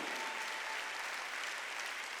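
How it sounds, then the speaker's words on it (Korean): A church congregation claps together during a Korean Sunday worship service, a soft, even wash of applause that holds steady for a couple of seconds at a moderate distance. "빨리 박수 치라고 빨리."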